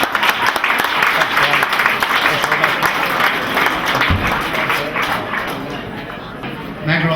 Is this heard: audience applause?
yes